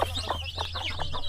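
A chicken on Burias Island clucks in quick repeated bursts, close and clear, about six short clucks in a rhythmic series over a low background hum.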